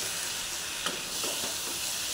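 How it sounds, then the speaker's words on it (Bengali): Spices fry in a pan over a low-to-medium gas flame, giving a steady broadband sizzle with a few faint scraping strokes of stirring. "তলা থেকে আর একবার নেড়ে দিলাম।"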